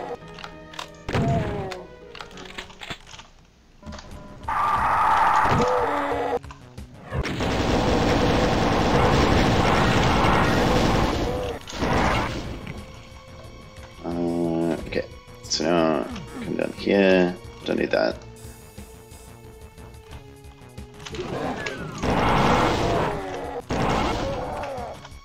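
Chaingunner gunfire and combat in Doom II: bursts of loud thudding and crashing impacts recur through the scene, with someone talking over much of it.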